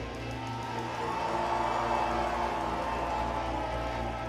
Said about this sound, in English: That means you have to cheer louder.